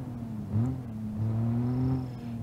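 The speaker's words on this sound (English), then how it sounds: "Very nice turbo noises" A straight-six car engine with a turbocharger in the BeamNG.drive driving game, giving a steady mid-pitched engine drone with a faint, thin turbo whine above it over a couple of seconds, alone with no talking.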